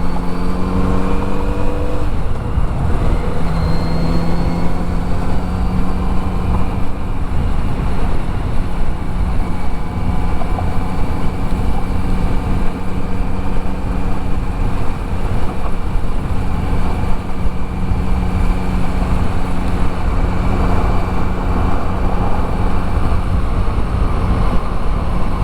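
Engine and exhaust of a Kawasaki Z900RS motorcycle while riding on a warm day, a steady loud drone with engine pitch rising early on, mixed with constant wind rush and no talk.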